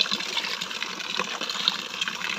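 Floodwater poured out of a house by hand, a steady splashing gush of water close by with no voices.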